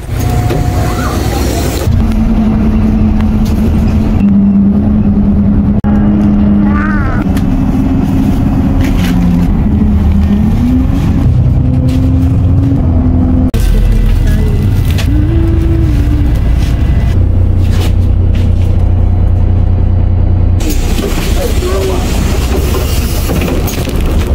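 A bus engine runs steadily and loudly throughout, with shifting tonal hums and rattling mechanical noise, heard from inside the vehicle.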